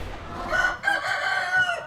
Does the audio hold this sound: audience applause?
no